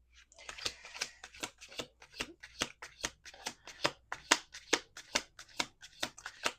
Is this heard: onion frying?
no